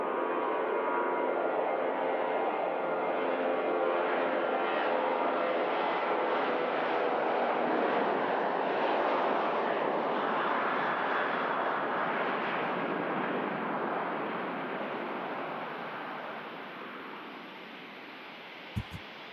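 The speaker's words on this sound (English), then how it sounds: "Ryanair climbs out." A Ryanair airliner climbing out after takeoff from Manchester Airport, heard as a loud, steady broadband jet roar that holds for most of the time, then slowly fades away near the end.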